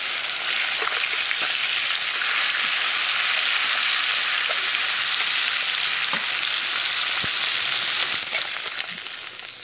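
Koi fish frying in hot oil, a dense, steady sizzle and crackle that fills the whole stretch, loud and close with faint stirring scrapes.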